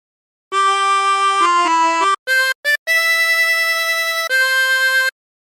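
A harmonica plays a phrase of the Battle Hymn of the Republic as a run of clean, sustained single notes, some short and clipped and others held long, stepping up in pitch and ending on a long note.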